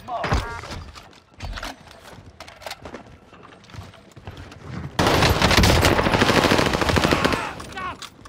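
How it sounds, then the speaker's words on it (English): Heavy gunfire in the video game Call of Duty Warzone: scattered shots and bursts first, then a loud, sustained stretch of rapid automatic fire mixed with other game effects. "Heavy fire."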